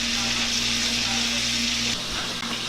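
Buttered steak frying in a pan, a steady loud sizzle with a low hum that drops off briefly near the end as the pan is moved.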